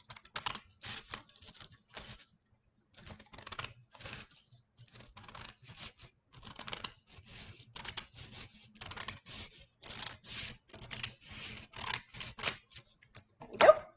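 Scissors snipping through paper for a craft project, a long run of short, irregular cuts close up and fairly quiet, with brief pauses between bursts.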